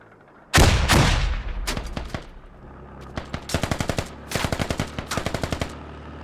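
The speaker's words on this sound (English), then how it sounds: "There's a ton of militia grenades coming out right now." Grenades exploding and gunfire during a militia firefight in the video game Squad: a loud blast opens, followed by rapid bursts of automatic fire and repeated shots in clustered volleys, close and intense with no talk.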